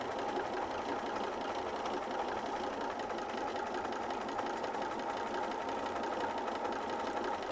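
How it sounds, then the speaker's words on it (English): A sewing machine stitches steadily around a heart shape on fabric backed with Texture Magic, giving an even mechanical whir and rapid needle chatter that runs unbroken at moderate volume with no speech. "you sew around your shape first."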